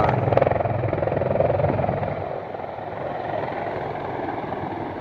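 A giant military helicopter comes in to land nearby, its heavy rotor thump and turbine roar loud and steady throughout, mixed with rushing wind from the downwash.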